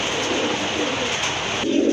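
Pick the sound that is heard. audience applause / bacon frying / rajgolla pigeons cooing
rajgolla pigeons cooing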